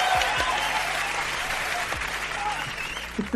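A Turkish TV studio audience applauds steadily as actor and choreographer Bahadır Efe is welcomed. The clapping is even and unbroken throughout, with a faint voice beneath it.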